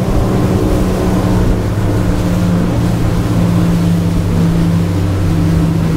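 Steady, loud roar of a Silvercat 34CC speedboat's twin Yamaha 300 hp outboard motors running at 5,800 rpm, a constant engine drone with rushing water, no voices.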